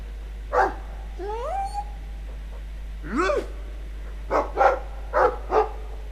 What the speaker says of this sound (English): I like the doggy.